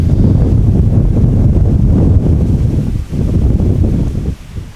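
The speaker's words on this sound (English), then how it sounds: "gorgeous with a shitload of wind" Strong wind buffets the microphone on an airport spotting site, a heavy, loud low roar that runs almost without break and eases slightly at the end.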